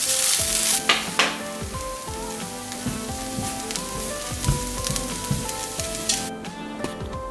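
Fried rice sizzling loudly in a pan, a continuous close crackle with repeated scraping and stirring knocks from a utensil throughout, no talking.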